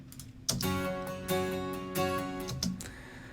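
Rhythmic virtual (software) strummed acoustic guitar chords, several evenly spaced strokes with ringing sustain, moderately loud and alone.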